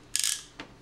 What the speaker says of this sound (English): test the winder